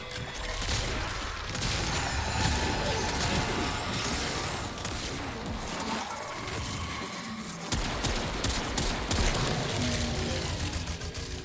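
Rapid, dense gunfire from weapons in the video game Warframe during a Scarlet Spear event, loud and continuous with overlapping shots and impacts and no clear pauses.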